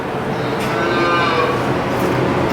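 Cattle calves moo outdoors under steady, broad background noise from wind or the barn, with a long low bellow swelling through the middle and other animals faintly audible around it.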